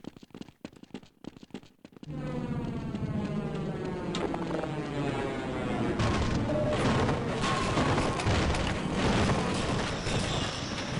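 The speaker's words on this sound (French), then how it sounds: "C'est parce que c'était que cette explosion." An explosion in the video game Half-Life bursts into a loud, sustained roar of rumbling debris and crackle after a couple of seconds of choppy game noise. The blast fills the mix and swells again midway, with no speech over it.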